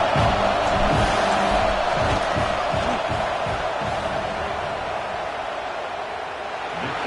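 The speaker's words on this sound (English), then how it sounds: "This crowd trying to do its part to get inside the kicker's head." Steady roar of a stadium crowd during a football field goal attempt, a dense broadband wash of voices that holds loud for the whole stretch with faint thuds underneath.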